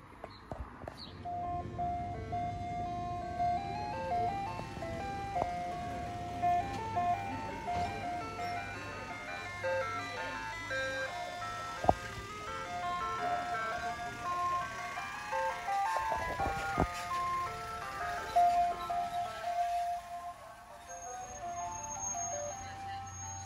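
Hamptons ice cream truck with a digital chime box playing its looping tinkling jingle nearby, repeating steadily over a faint road and engine hum, with a voice talking now and then.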